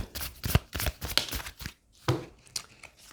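Tarot cards being shuffled and drawn, quick papery riffles and soft slaps in short bursts close to the listener, separated by a brief pause.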